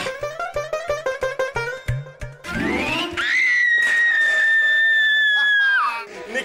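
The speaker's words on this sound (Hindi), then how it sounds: "ये फूफी चीखी आपका मुग्दल लगने से" A woman's loud, long, high scream after being struck by a mace, following rhythmic exertion grunts and a crash, held for several seconds before breaking off.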